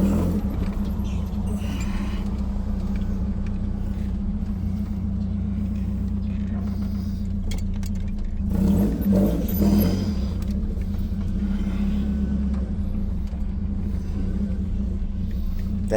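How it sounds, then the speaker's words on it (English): Nissan D22 pickup with a KA24DE engine and a loud header pipe, driving slowly at about 12 mph, giving a steady low exhaust drone and rumble with a brief swell in the middle, heard from inside the cab. "The header pipe does make my truck kind of loud"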